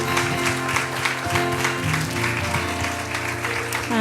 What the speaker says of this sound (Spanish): Damos un aplauso fuerte a nuestro Dios